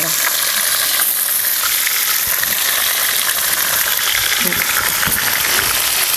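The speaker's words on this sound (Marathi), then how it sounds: "भरलेलं वांग मसाला भरलेलं वांग सोडायचं तेलामध्येच परतून घ्यायचं" Masala-stuffed brinjals frying in hot oil, a loud, dense, continuous sizzle close up throughout with faint stirring underneath.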